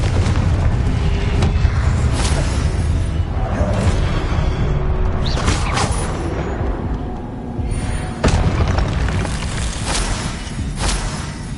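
Repeated Confringo spell blasts boom and burst in Hogwarts Legacy gameplay, with a dense, continuous roar of explosions and whooshes, loud and close and lasting throughout, with no talking.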